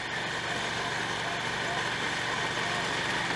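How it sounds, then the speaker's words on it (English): A Victory Magnum motorcycle engine runs steadily and loud throughout, a constant close rumble with no breaks. "this bike sounds better than anything I've ridden so far"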